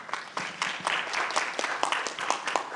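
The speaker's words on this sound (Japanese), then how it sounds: "皆さん拍手でお迎えください。" An audience claps to welcome a lecturer to a library talk, a steady round of many hands applauding close by, continuous across the whole stretch.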